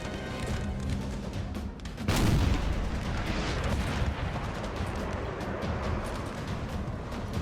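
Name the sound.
artillery fire in Napoleon Total War video game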